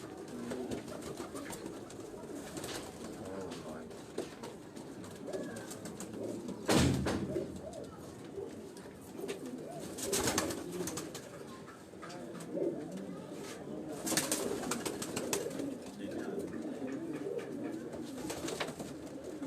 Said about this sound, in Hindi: ये जो 3 कबूतर हैं, 3-4 कबूतर एक कलर में नजर आए